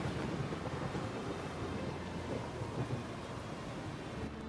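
A violent video-game thunderstorm roars as a dense, steady wash of rumbling thunder and rain-like noise, loud and unbroken throughout, with no voices.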